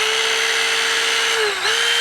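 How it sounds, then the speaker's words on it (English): A battery-powered hydraulic rescue combo tool, a spreader and cutter in one unit, runs with a loud steady motor whine close by, dipping briefly in pitch under load before recovering. "this one here is a combo tool, so we can spread or we can cut with the same tool"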